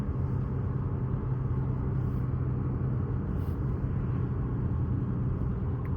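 Porsche 944 engine droning under load through a downshift, a steady close low rumble with faint higher whine, constant in level with no clear rev spike and no voices present.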